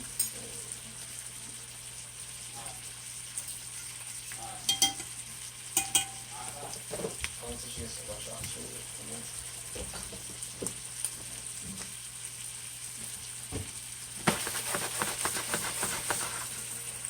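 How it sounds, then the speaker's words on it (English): Shrimp sautéing in a pan at a home birthday dinner, a faint steady sizzle and hiss with a few soft clinks and stirs, rising louder near the end, against a constant background hum. "Those shrimp are sauteing nicely."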